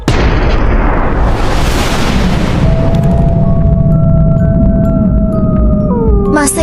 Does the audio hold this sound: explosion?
yes